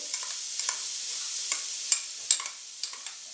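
Steady high sizzle of grated wild gooseberry frying in hot oil, broken by occasional scraping and clicking from stirring.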